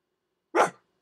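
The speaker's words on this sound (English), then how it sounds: "I hear a little dog rumbling." A small dog gives a single short, sharp bark close by, with silence before and after and no voices.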